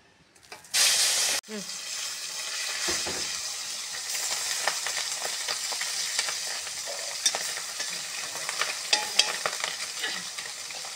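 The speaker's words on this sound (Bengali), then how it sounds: "এবার কড়াই তেল দেবো, মাছটা আগে ভাজবো, তারপরে মূলোটা দেবো।" Tengra fish frying in hot oil in a wok. A loud hiss bursts out at the start, then a steady close crackling sizzle runs on with small pops, and a voice is faintly heard once.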